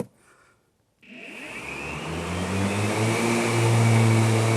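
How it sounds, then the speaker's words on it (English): Blades on a Ryobi 80V 54-inch zero turn electric mower switch on after a brief near-silence, spinning up with a rising whine that settles into a loud, steady electric hum. "All right, let's turn on the blades."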